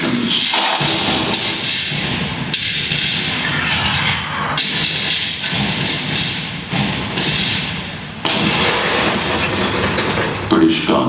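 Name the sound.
cannon fire sound effect in historical documentary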